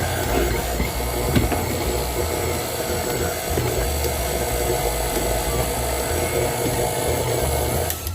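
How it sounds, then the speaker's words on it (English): A stand mixer fitted with a spade bit runs slowly, cutting cubes of butter into flour for a tart Tatin pastry, giving a steady, continuous motor whir with faint scraping texture, close and even throughout. "make sure you hit up that mixer and you go real slow"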